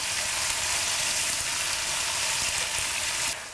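Loud, continuous sizzling of veal frying in a hot pan, a dense crackling hiss that drops off abruptly at the very end.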